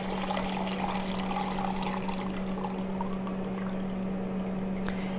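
Pasta water drains through the openings of a pot lid into a sink, giving a continuous, steady rush of pouring liquid that runs the whole time, close and fairly loud, with no talk.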